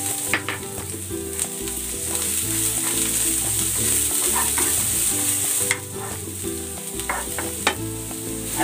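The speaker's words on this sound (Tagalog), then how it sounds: "Dagdag tayo ng konting mantika. Ilalagay ko na tong sibuyas." Onions hit hot cooking oil in a pan with a steady, loud frying sizzle, broken by the scrape and clatter of stirring throughout.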